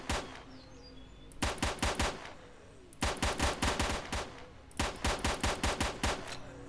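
Pistol gunfire in the video game Stalker, three rapid bursts of closely spaced loud shots separated by short pauses, with faint ambient game sound between.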